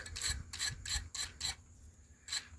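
Copper tip of a soldering iron being scrubbed clean, close rhythmic rasping strokes, about seven in quick succession with a short pause near the end, no talking.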